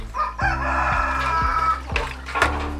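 A rooster crows loudly in a long drawn-out call, followed by shorter clucks and calls from other chickens nearby.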